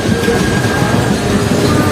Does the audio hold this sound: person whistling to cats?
no